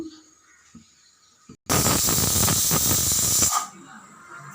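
A pressure cooker whistle releases a loud, steady hiss of steam for about two seconds, then cuts off, with quiet room sounds before and after.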